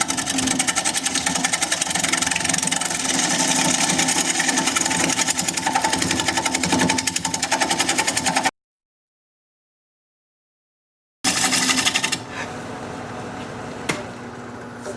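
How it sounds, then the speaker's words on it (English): A wood lathe spinning a bowl at 710 RPM is worked with a 5/8 inch bowl gouge, giving a loud, dense, buzzing cutting drone. It stops abruptly, then restarts briefly before dropping to a quieter hum. "We're going to be turning at 710 RPM, 5/8 inch bowl gouge"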